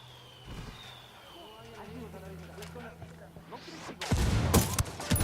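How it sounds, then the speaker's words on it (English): Artillery strike called in as indirect fire in the video game Ghost Recon Wildlands, arriving as a sudden loud burst of explosions near the end after a quieter stretch with low engine hum and game effects. "calling for indirect fire"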